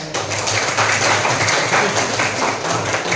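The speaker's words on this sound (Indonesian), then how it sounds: "Baik, semuanya tepuk tangan." Children clapping together in a classroom, a dense, steady round of applause lasting a few seconds at close range, with no talking over it.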